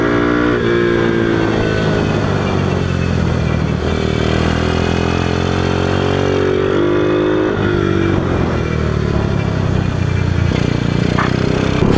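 Motorcycle riding easy warm-up laps on a track, its engine a steady close drone with smooth shifts in pitch as the rider rolls through, no voices over it.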